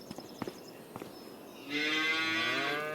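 Cattle mooing in Farming Simulator 25 on a farm holding about 160 cows: a few faint knocks and clicks, then a loud, sustained harmonic moo swelling in and holding steady near the listener, with no voices.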